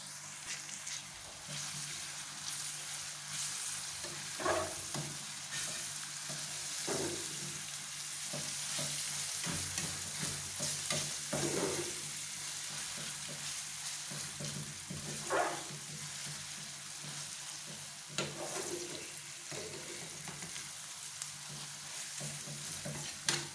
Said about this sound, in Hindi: इधर से हमारा ये फ्राई हो रहे हैं प्याज